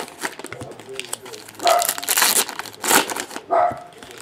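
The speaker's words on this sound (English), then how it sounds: "Outside barking, Liza downstairs starts barking" A dog barks downstairs in a home, several sharp barks breaking out in bursts mixed with crinkling and handling noises close by.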